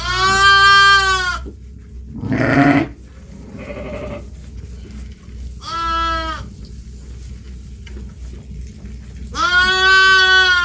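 Newborn lambs and ewes bleat on a farm during lambing season: a loud, close cry at the start and another at the end, with softer bleats in between over a low background rumble.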